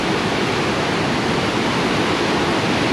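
Yellowstone River rushing past at close range, a steady loud broadband roar of fast-flowing water with no letup and no voices.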